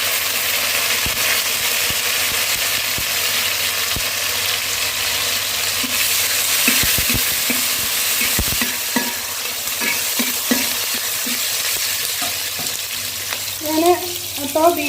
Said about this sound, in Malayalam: ഇനി നമുക്ക് നമ്മുടെ പച്ചമുളകും വേപ്പിലയും കൂടി ചേർത്ത് കൊടുക്കാം